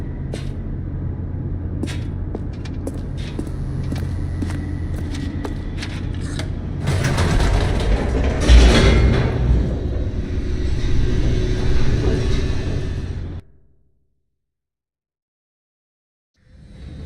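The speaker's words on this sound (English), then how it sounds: "The elevator raced downward, plummeting towards an unknown fate." An elevator in The Stanley Parable descends with a steady mechanical rumble and hum that swells into a louder rushing roar, then cuts off abruptly into silence.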